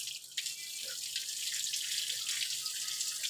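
Water poured over a deity idol during a ritual bath makes a steady, close splashing stream that runs unbroken throughout, with no voices.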